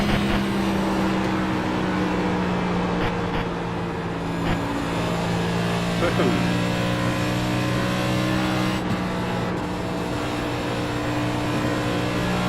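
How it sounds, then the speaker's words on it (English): A NextGen race car engine drones steadily in the iRacing video game at Indianapolis Motor Speedway. The engine holds a constant high-rpm tone with slight pitch shifts as it runs, loud and continuous for the whole clip with no speech. "I can fix the engine sound for sure."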